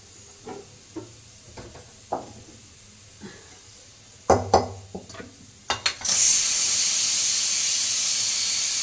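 A few clicks and taps, then a sudden loud, steady sizzle as spices are tempered in hot oil in a pan and keep crackling without pause.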